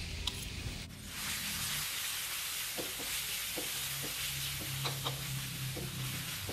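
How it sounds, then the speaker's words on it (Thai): Garlic and coriander root frying in a little oil, a loud, continuous close hiss of sizzling with scattered pops and the odd clink of stirring. "ใส่น้ำมันนิดหน่อยแล้วก็ใส่กระเทียมกับรากผักชี"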